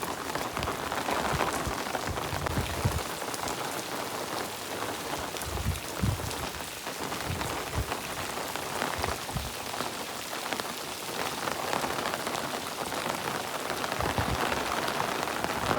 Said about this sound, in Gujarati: 12 વાગ્યાનો ચાલુ થયો હોય વરસાદ, હજી ચાલુ છે